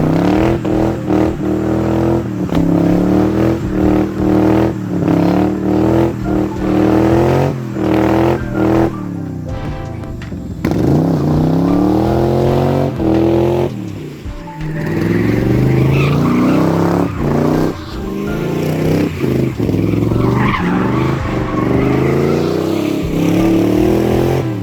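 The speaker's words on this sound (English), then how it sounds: "I'm gonna put that video in here now of me doing some donuts, and I was actually in second gear," A car does donuts in second gear with an exhaust leak, its engine revving hard and loud in repeated rising and falling surges, close by with no talk.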